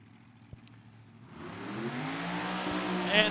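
Slingshot dragster engine at Tucson Dragway, rising from quiet to a loud, building mechanical roar with climbing pitch, a couple of sharp knocks early, and loud at the close.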